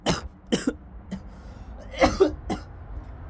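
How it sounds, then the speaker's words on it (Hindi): A man waiting at a bus stop coughs repeatedly, several harsh close bursts in uneven rhythm with some throat clearing between them. "ये खांसी नहीं जा रही है"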